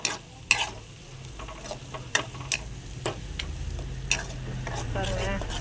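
Ground onion paste fries in plenty of oil, sizzling quietly under repeated scraping and clicking stirs of a spoon against the pan, the hiss growing fuller toward the end.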